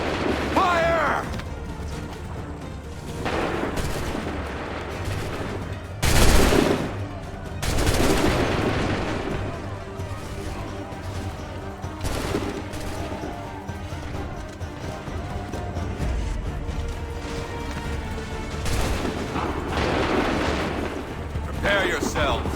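Booming musket volleys in Assassin's Creed 3, several heavy massed discharges spaced seconds apart over a rumbling battlefield backdrop, with voices and ambient noise between the blasts.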